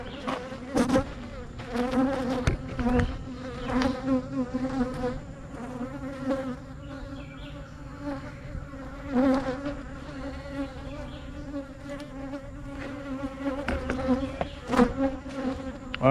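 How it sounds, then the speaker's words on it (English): A swarm of agitated honey bees buzzing around a hive, a dense steady drone with individual bees whizzing close past, loud and continuous with no talking. "these bees get really cranked up. You see them flying here."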